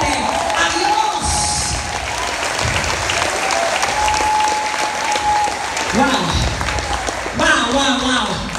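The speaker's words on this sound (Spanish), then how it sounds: "¿Habrá alguien aquí que da un aplauso fuerte a Dios?" Loud, sustained applause from a church congregation, dense clapping filling the whole stretch with crowd noise and a voice briefly cutting through at moments.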